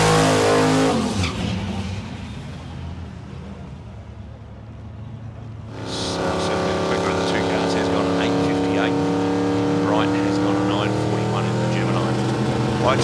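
Drag racing cars at Calder Park thunder past at a Friday night meeting, a loud, sustained roar that eases briefly before a second engine surges in and holds at full volume.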